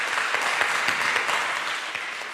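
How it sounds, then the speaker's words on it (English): Audience applause after a university conversation event, a dense steady clapping from a full room that holds at an even level throughout. "So give yourself a round of applause."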